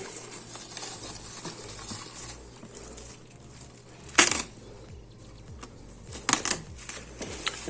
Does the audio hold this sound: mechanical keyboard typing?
yes